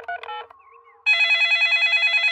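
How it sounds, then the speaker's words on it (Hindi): A cartoon telephone is dialed with a short run of electronic key beeps, then a loud, steady pulsing ring tone takes over. "तो ठीक है, हम उन्हें फोन करते हैं।"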